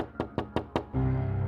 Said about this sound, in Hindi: वैसे ही किसी ने डोर नॉक किया